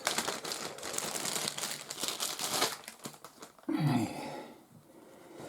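A plastic bag of wargame cards crinkles and rustles while being handled, a close, busy crackle that breaks off briefly and then returns with a louder crumple before fading.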